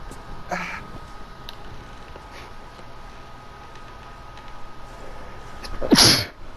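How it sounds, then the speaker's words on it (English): A single loud, close sneeze bursts out near the end after a quiet stretch with faint background hiss, the sneeze landing right on the microphone. "I just sneezed all over my microphone."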